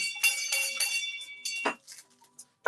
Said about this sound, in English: I can ring my bell.